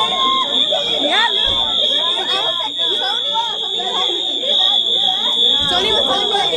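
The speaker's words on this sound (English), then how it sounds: "Look at what she's doing, recording the fire alarm." A building fire alarm sounds continuously with a steady high-pitched electronic tone, while several people chatter and move nearby throughout.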